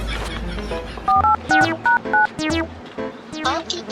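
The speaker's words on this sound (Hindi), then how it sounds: "मोर नंबर बता के था 1 2 4 5 3 4 1 9 8 25 लगा रे फागू।" Telephone keypad tones for a number being dialed on a phone, a quick series of short, bright dual-tone beeps in an uneven rhythm, close and clear over a faint background with no talking.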